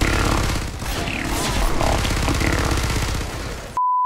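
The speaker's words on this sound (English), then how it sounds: "Is that a bear with machine guns?" Rapid machine gun fire from a bear in the Fortnite video game, loud sustained bursts of shots that rattle on for several seconds before cutting off abruptly.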